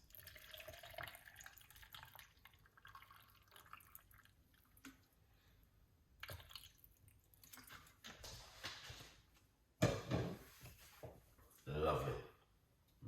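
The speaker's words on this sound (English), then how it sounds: "we're going to put some water into it" Water splashes and trickles into a container in short bursts, close by, after a stretch of quiet handling sounds.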